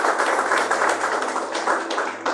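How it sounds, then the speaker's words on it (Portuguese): A church congregation claps for Jesus during a sermon, a dense, steady wash of many hands slapping together at close range for a couple of seconds, with no voices over it. "Palmas para Jesus."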